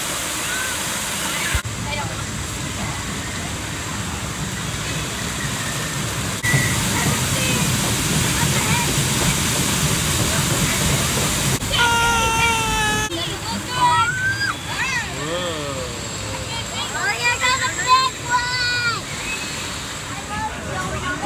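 Rushing, splashing water of the Kali River Rapids raft ride at a theme park, a steady loud wash that continues throughout, with people talking and shrieking over it in the second half.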